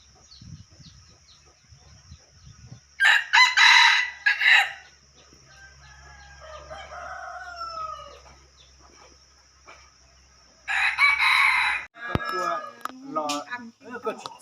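A rooster crows loudly in two bursts, with clucking and other chicken noises in between and a person talking nearby.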